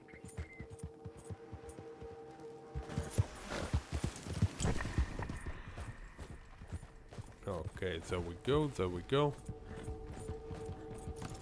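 Horse hooves clip-clop in the Red Dead Online video game, a busy run of clattering hoofbeats mixed with tack and mechanical clicks, while someone talks briefly over it.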